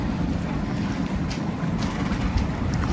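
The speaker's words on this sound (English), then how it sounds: "It's midday, it's pretty windy now." Wind blows steadily around a sailboat tied up at a dock at midday, a constant rushing roar with gusty buffeting against the microphone and no clear breaks.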